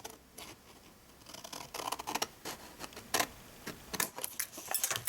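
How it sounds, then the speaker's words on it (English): Scissors cutting vellum paper for a Valentine's gift bag: a series of close, crisp snips and paper rustles, growing busier toward the end, quiet and alone. "Notch in slightly and cut away that piece here."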